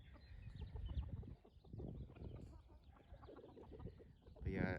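Oriental chickens cluck and murmur nearby in a quiet, irregular stream of low calls, with a louder squawk at the end.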